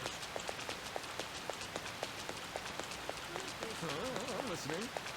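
Steady rain in Persona 5 Royal, a soft even patter with regular faint tapping and light melodic tones near the end, fairly quiet throughout.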